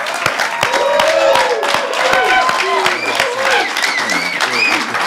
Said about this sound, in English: let's get another round of applause for Jeremiah Kerby